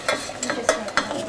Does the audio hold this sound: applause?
no